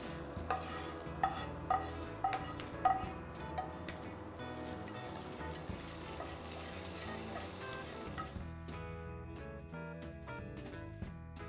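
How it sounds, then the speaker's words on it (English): A tempering is stirred into arachuvitta sambar in a pot, giving a faint sizzle and soft liquid stirring with a few light clinks of a spoon early on, then a quieter simmer. "Now I'm going to add this to the sambar, give it a stir"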